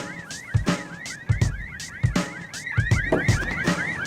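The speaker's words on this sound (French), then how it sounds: "Les alarmes, patron! Arrêtez-moi ça!" Several car alarms blaring at once, with warbling, looping electronic tones and rhythmic honks overlapping loudly and close by.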